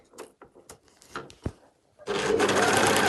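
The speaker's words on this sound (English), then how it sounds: "So I'll start overlocking at a corner just because it's easy" An overlocker runs steadily along the piped edge of a cushion cover, a continuous close mechanical whirr starting after a second of scattered clicks and handling of fabric and the machine.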